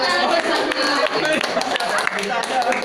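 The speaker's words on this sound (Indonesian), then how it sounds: "Tepuk tangan dong." Workshop participants at a teacher-training session clap their hands in a busy, uneven patter close by, mixed with overlapping chatter and voices from the room.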